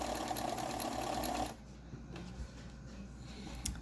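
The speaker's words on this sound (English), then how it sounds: "we are going to sew our pipe cleaner down" A sewing machine running a wide zigzag stitch over a pipe cleaner laid on fabric, a steady close mechanical whir for about a second and a half before it stops, leaving quiet handling noises.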